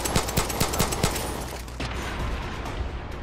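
Wooden object bursting apart in the Far Cry 6 video game: a rapid series of sharp, loud crackling blasts in the first two seconds, trailing off into a rumbling, debris-filled wash of noise.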